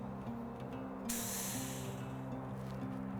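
Peperko E pepper spray aerosol canister fired in one continuous loud hiss of about two seconds, starting abruptly and running to the end, over a low steady hum.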